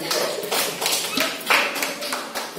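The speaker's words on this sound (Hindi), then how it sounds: "बजा दो इसके बच्चे, इस बच्चे के लिए भी ताली" Claps in a classroom as praise for a student who answered correctly: a short run of fairly close hand claps in an irregular, uneven rhythm, with no voices over them.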